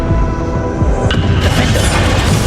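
Bombarda explosion spell going off during a battle against Ranrok in the Hogwarts Legacy video game: a loud, dense blast of rumbling, crackling noise that swells midway and holds at full strength without a break.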